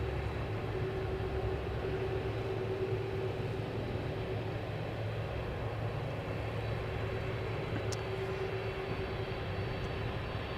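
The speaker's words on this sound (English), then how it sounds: "I really thought it was the DC-3 Dakota." Douglas DC-3 Dakota propeller aircraft near Schiphol's Polderbaan runway, a faint, steady distant rumble with a droning tone lasting throughout, no talk.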